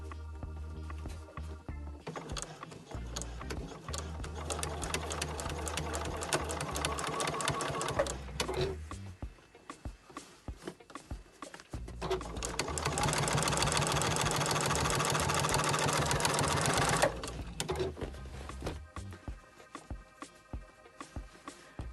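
A sewing machine stitches binding onto thick denim scraps in two long, steady mechanical runs separated by a short pause, with a rapid, even needle rhythm close up and no talking.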